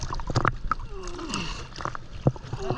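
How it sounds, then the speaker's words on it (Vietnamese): A small boat is rowed on the Saigon River, with irregular paddle splashes, gurgling water and knocks against the hull, fairly close, under faint background noise. "Đây có một chiếc ghe đang bơi lại cho thầy"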